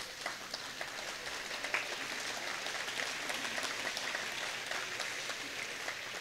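Graduates and guests at a spring college commencement applaud, a broad, even wash of many hands clapping heard from a distance, sustained and fairly quiet throughout the six seconds.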